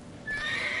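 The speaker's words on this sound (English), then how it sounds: "Luckily, Geral can always count on his horse, Roach, to help him in his travels" Roach, Geralt's horse in The Witcher 3: Wild Hunt, gives one short, clear whinny at close range, rising suddenly out of quiet background ambience.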